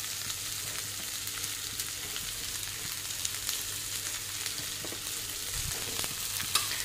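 Boal fish roe fries in a pan with a constant dense sizzle, close and steady, and occasional faint utensil scrapes, with no talk.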